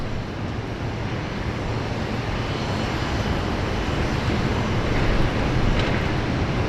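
China Eastern airliner pushing back at Sydney Airport, heard as a steady, broad jet engine roar with wind-like rushing, continuous and fairly loud throughout, with no talk.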